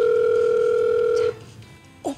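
A telephone call rings out with a steady, loud electronic tone that stops abruptly partway through, followed by quiet and a brief voice-like sound at the end.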